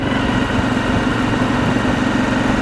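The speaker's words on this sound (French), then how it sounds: "si ce n'est que je suis sur ma moto" Motorcycle engine idling on a sunny ride, loud and close, with a continuous rough low throb and steady vibration for a couple of seconds, without speech.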